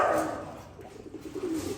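Racing pigeons coo softly nearby, a low burbling call that opens strongly and returns in gentle rolling phrases, with no one talking.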